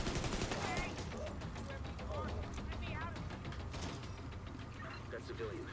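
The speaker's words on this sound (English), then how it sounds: "Oh, that's my turret." A deployed turret in The Division 2 fires steady bursts of rapid automatic gunfire, loud and continuous for several seconds, with voices talking over it.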